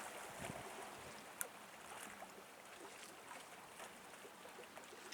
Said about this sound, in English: Here it's just the lapping of the water.